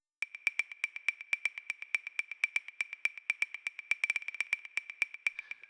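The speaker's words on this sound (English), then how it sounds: "it's just a tonal wood block, which has like a tone to it" A tuned tonal wood block in an Afro House production taps a fast, steady rhythm of sharp, pitched clicks, with a brief flurry near the end. The hits are dry, close and fairly quiet, with no voices.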